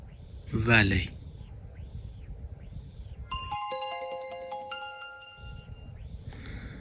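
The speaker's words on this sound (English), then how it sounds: "And last ringtone is valet." The iPhone 15 Pro 'Valet' ringtone, bright layered chiming electronic tones playing a short repeating melody, loud and clear, after a brief burst of background noise.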